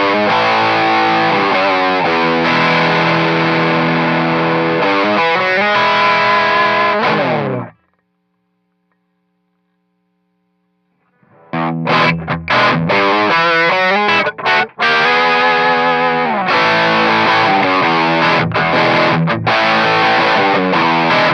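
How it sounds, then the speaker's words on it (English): A custom Telecaster on its bridge humbucker plays through a boost pedal with driven, sustained chords, then falls silent for about four seconds and returns with punchy chord stabs and ringing strums, loud and close. "I'm going to play a custom Tele that has humbuckers in the neck and the bridge position"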